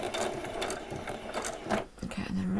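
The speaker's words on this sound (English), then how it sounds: "Do a little back stitch." A sewing machine back-stitches a seam on small doll jeans, a brief burst of close, rapid mechanical stitching that pauses for a moment before starting up again.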